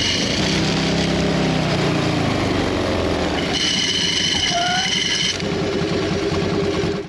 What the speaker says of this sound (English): that engine is getting pretty loud when I downshift